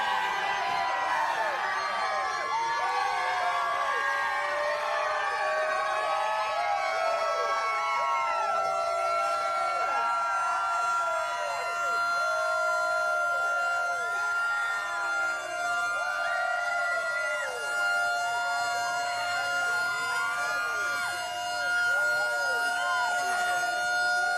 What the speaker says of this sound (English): the siren goes off at the Dawsonville pool room